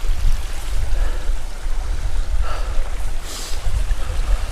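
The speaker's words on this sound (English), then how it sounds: "Sheltered, running water." Running water of a sheltered stream beside a wild camp on Moel Siabod, a steady close rush with low wind-like rumble throughout, alone with no voices.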